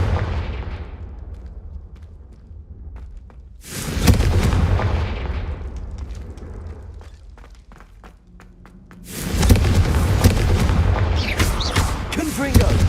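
Confringo fire spells blasting in Hogwarts Legacy gameplay, with two big booming explosions bursting in near the four- and nine-second marks, over rumbling battle noise and scattered sharp cracks in between.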